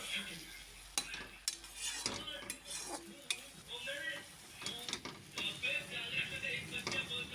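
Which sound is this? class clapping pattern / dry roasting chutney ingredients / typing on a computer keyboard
dry roasting chutney ingredients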